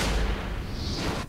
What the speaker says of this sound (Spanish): Dispara un desatascador explosivo que se pega a los enemigos y provoca una explosión apestosa.